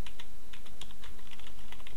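Rapid, steady typing on a computer keyboard while entering forum setup details, with close, crisp key clicks in a continuous run and no talking.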